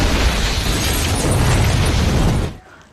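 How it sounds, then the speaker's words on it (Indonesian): A huge explosion levels a building in an action film: a loud, sustained roaring blast with rumbling debris that fills the scene, then cuts off abruptly into near quiet at the end. "sebuah ledakan meluluhlantakkan tempat tersebut."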